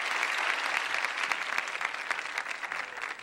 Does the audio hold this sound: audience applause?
yes